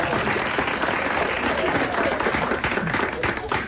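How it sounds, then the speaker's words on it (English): Applause from a sports crowd at a big game, a dense, steady wash of many hands clapping at close range, sustained throughout without pause. "They're clapping sooner and sooner."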